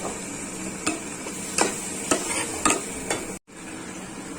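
Spices fry in a pan after a splash of water, a steady hiss broken by several sharp clinks and scrapes of a spoon stirring against the metal, close up, with a brief dropout near the end and no talk.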